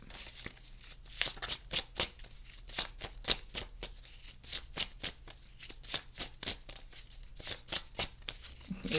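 Tarot cards being shuffled by hand, a close, crisp run of rapid riffling and flicking bursts in an irregular rhythm, with no talking.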